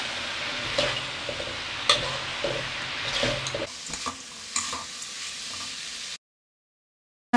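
Spinach and dried shrimp with oyster sauce sautéing in a pan, with a crackling sizzle and several scraping stirs of a spatula, before the sound cuts to silence near the end.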